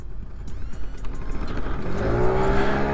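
A 1988 Suzuki Gemma 50 scooter with a 3-speed automatic climbs uphill, its small engine whirring and rising in pitch as it accelerates, heard steadily close up with wind noise.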